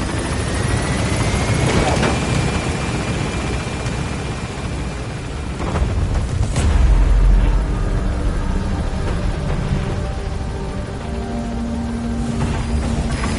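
The Pequod helicopter in the video game Metal Gear Solid 5 roars loud and close as it gains altitude, its rotor wash a dense rumble with a rising whine and a heavy thump midway.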